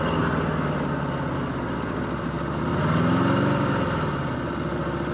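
A 1954 Harley-Davidson KH 750 motorcycle engine runs with a steady, throbbing mid-low rumble that briefly revs up in the middle before settling back, heard alone without talk.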